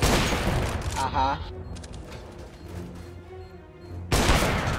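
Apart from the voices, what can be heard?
gunfire in the video game CS:GO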